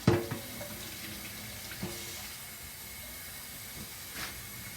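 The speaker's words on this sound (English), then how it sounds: "Hot water." Hot water runs from a tap into a sink, a steady soft hiss and splash after a short clunk at the start, fairly quiet and without talk.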